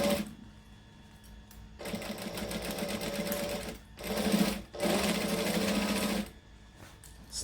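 A home sewing machine stitches a camera bag in two long, steady bursts of whirring, separated by a brief pause, each running loud and close before stopping.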